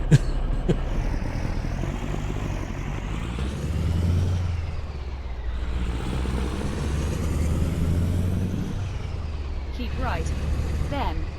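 Truck engine in a trucking simulation game, a 6x4 rig, droning loudly and steadily with a deep low rumble and rising and falling pitch as it pulls, while a voice talks over it.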